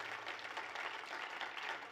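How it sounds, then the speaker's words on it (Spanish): Church congregation applauding, a dense and even wash of clapping from many people that holds steady at moderate volume throughout, with no speech. "¿Alguien quiere darle un aplauso a Dios por su palabra"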